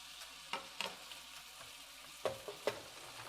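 Shrimp laid flat in a pan fry with a faint, soft sizzle, broken by a few sharp clicks and taps as they are placed and moved. The sound is quiet and close, with no talking.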